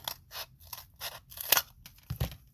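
Scissors snip repeatedly through cardboard tube strips in short, crisp cuts, about seven or eight in a row with small crunching pauses between them, close up.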